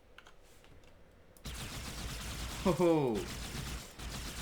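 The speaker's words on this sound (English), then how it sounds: "firing both these weapons" Dual-wielded weapons firing in Halo 2, a dense, continuous burst of rapid gunfire that starts abruptly and holds steady, with a person's short exclamation partway through.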